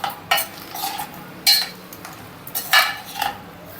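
A spoon clinks against a pot in several sharp, separate taps and scrapes while turmeric and salt are stirred into a broad bean curry, with quiet gaps between strokes; no talking.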